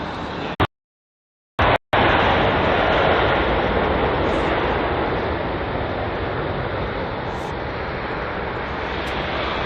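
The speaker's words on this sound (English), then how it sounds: "next up we have a British Airways A320neo, which is on a current flight time of 1 hour and 15 minutes on its route from Geneva" A British Airways Airbus A320neo arriving at London Heathrow, a loud, steady broadband engine roar that is continuous after a short dropout near the start.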